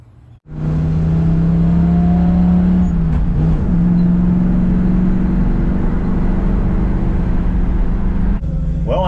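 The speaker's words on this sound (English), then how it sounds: "getting a ride in the old 68 GMC" An old 1968 GMC truck running close by from inside the cab, a loud steady engine drone that starts abruptly and holds through, with a brief shift midway and a change near the end.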